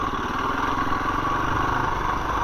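A KTM 350 EXC-F four-stroke dirt bike engine idles close by, a steady, even mechanical putter with a fast pulsing rhythm and no talking.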